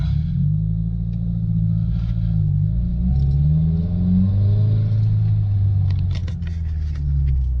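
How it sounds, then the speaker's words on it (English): A manual-transmission car engine idling then revving gently as the clutch is released in an empty school parking lot, a steady low rumble rising and falling in pitch, close and continuous with no talk. "once the RPMs start dropping, you just give it a little bit of gas and let the clutch off the same way"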